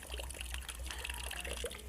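Water poured off the top of a container over settled rust sediment gives a faint, soft, continuous trickle and splash, close and quiet, with no talking.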